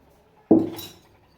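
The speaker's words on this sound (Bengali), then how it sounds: "পুরো ভাতটা আমি ঢেলে দিলাম" Cooked basmati rice for egg biryani is tipped into a pot, giving a single soft thud with a faint metallic clatter that quickly dies away in a quiet kitchen.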